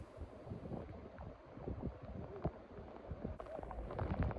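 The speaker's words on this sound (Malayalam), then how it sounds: "നല്ല തണുത്ത കാറ്റ് വീശുന്നുണ്ട്" Cold wind blowing across the Kudajadri hilltop, gusty buffeting rumble against the microphone with irregular bursts, fairly close and steady throughout, no voices.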